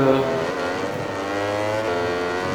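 A Ducati racing bike in the MotoGP 20 video game gives a sustained high engine whine that holds steady and shifts pitch slightly, loud and close, under faint commentary.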